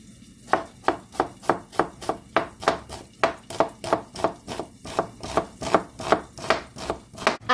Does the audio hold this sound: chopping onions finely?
yes